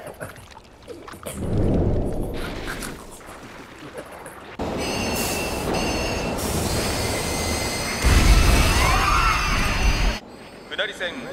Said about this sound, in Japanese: まもなく1番線に下り方面行き普通電車が参ります。